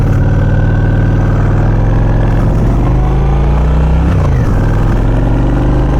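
A Honda Shadow 750 ACE motorcycle engine runs loud and close while accelerating, its pitch rising and falling as it revs, with a dip and recovery near the end.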